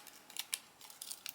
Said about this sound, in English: I'm going to grab my scissors and do that.